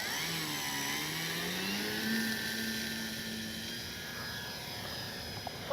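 Electric motor of a Dynam DHC Beaver V2 RC plane on its maiden flight, a steady high whine that shifts in pitch as it spools up and the plane pulls away during takeoff, moderately loud with no voices.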